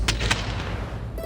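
Firecrackers bursting outdoors in celebration, two sharp cracks early then a continuous rumbling crackle of distant bangs, loud and steady throughout.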